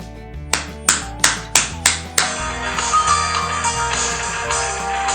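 Six sharp, evenly spaced hand claps ring out close by in a quiet room to trigger a phone-finding app, followed at once by a sustained melodic phone tone.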